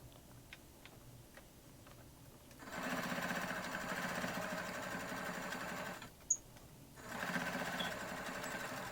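A sewing machine stitches a throw pillow in two bursts of fast, steady mechanical whirring, with quiet ticking and handling between them and a sharp click near the end.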